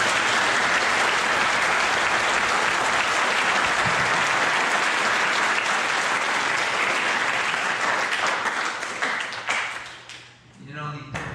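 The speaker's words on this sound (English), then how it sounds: "let's give Gary a hand of applause." Crowd at a fishing meet-and-greet claps for a guest, a loud, even wash of applause that thins out near the end as a few last claps and room noise trail off.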